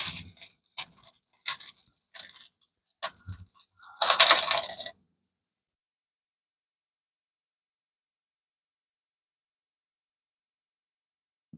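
Coins rattling and clinking as a hand digs through a tub of mixed world coins, a series of sharp metallic clicks followed by a louder burst of jingling, then silence.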